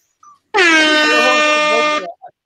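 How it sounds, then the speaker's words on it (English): A single loud, blaring air horn blast holds steady for about a second and a half, close and harsh, with a brief voice fragment before and after. "Air horn."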